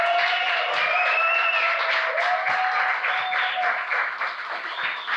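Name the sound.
audience applause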